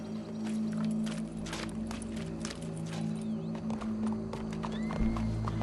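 Hoofbeats and a horse's whinny in Red Dead Redemption 2, steady game ambience under occasional clip-clop steps and a brief neigh, with no talk.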